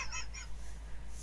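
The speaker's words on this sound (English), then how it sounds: "That's the sound of a goose." A goose honks several times in quick succession, close and clear, in a short burst with no talking.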